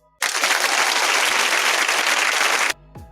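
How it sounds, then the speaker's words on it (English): Audience applause bursts in suddenly, holds loud and dense for about two and a half seconds, then cuts off, leaving a brief faint tail. "And that round of applause is going to go to the state."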